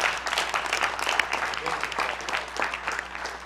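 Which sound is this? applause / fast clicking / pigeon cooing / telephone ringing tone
applause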